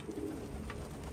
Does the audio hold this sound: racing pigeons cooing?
yes